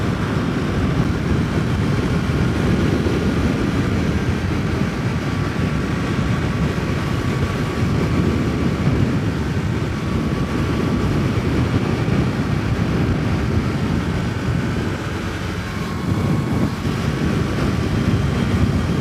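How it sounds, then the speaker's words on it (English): A stock-exhaust 2021 Kawasaki Ninja 400 motorcycle being ridden, its quiet engine hum buried under a steady, loud rush of wind and road noise throughout, with no talking. "So stock exhaust is extremely quiet."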